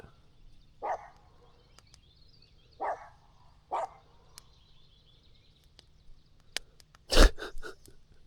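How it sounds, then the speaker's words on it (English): Skip the dog barks in a few short, separate woofs at night on a sandbar, spaced a second or two apart, with a louder sharp bark near the end over quiet background hiss. "Skip, what are you barking at?"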